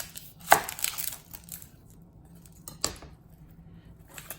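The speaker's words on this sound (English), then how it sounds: "I'm going to do that by cutting my onion in half" A kitchen knife slices an onion in half on a cutting board, giving two crisp, close chops a couple of seconds apart against a quiet background.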